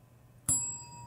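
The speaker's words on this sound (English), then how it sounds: "So please press the bell." A quiz show buzzer bell struck once, a single bright ring with a sharp attack that then rings on and slowly fades.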